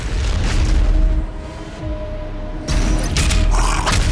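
A grenade blast in DOOM Eternal on PC, a heavy booming rumble with a roaring low-end tail, loud and near, with a second surge of debris and noise following.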